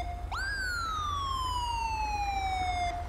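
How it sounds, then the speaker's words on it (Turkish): An ambulance siren in the video game GTA 5 gives a single wail that rises sharply, then slides slowly down over about three seconds, steady and fairly clear over low background rumble. "Ambulans da geldi."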